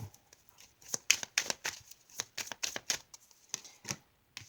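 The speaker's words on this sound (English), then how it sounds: "A whole bunch of cards just fly out." Tarot cards are shuffled up close, a quiet run of quick papery flicks and slaps in uneven bursts, with no voices.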